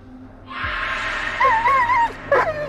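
Bullet the dog in the horror game Blair Witch gives a short, close whimpering whine with wavering pitch, followed by a brief higher yelp.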